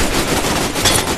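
Rapid, dense bursts of enemy gunfire crackle loud and close in the jungle shooter Raven Squad: Operation Hidden Dagger, a continuous volley with no pauses.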